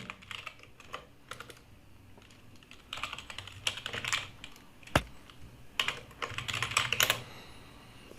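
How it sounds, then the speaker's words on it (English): An email address being typed on a computer keyboard during a Zoom sign-in: close, quiet key clicks in uneven flurries with brief pauses and one sharper tap near the middle, no voices. "I'm just going to type in my email address right over here"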